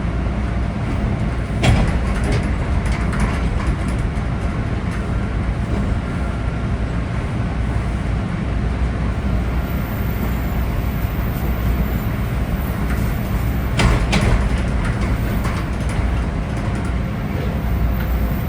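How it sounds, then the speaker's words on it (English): Toronto Transit Commission Line 2 subway cars with linear induction motors, a steady loud rumbling drone of the running train with brief louder bursts, no voices. "that sound is created by the linear induction motors that these cars have"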